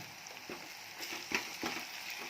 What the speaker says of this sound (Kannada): ಶುಂಠಿ ಬೆಳ್ಳುಳ್ಳಿ ಪೇಸ್ಟ್ ಚೆನ್ನಾಗಿ ಇದರಲ್ಲಿ ಮಿಕ್ಸ್ ಮಾಡ್ಕೊಳ್ತಾ ಇದ್ದೀನಿ.